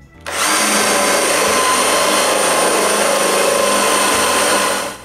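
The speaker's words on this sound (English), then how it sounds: "So I drill some shallow holes" A power drill whirs loudly and steadily for several seconds, boring shallow holes into wood with a constant high-pitched whine.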